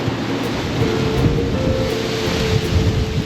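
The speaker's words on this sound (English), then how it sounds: "Yeah, it's windy." Wind gusts buffet the microphone outdoors during oil and filter maintenance on a 115 HP Mercury four-stroke outboard boat engine, a steady low rumbling roar with a faint hum, no voices.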